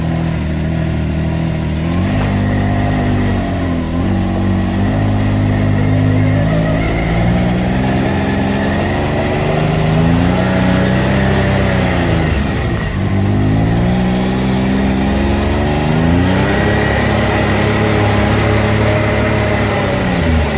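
Can-Am Maverick X3 XRS Turbo R UTV engine running fitted with hand controls, revving up and down repeatedly in rising and falling sweeps, loud and close throughout with no talk.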